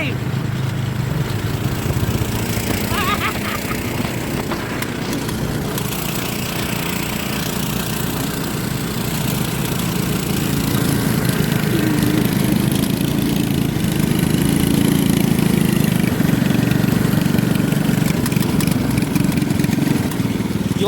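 A side-by-side utility vehicle's engine running steadily at idle outdoors, a continuous low rumble that swells slightly in loudness over time, with people talking over it.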